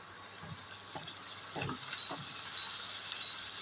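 Pasta ingredients fry in oil in a pan, a faint, steady sizzle with a few soft stirring knocks, heard alone without talk.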